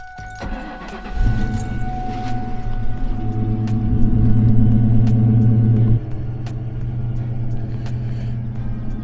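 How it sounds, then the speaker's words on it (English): A New Edge Ford Mustang cold starts, cranking and firing up, then settles into a steady, loud idle rumble with a slight drop in revs partway through. "Let's get y'all this cold start, boys."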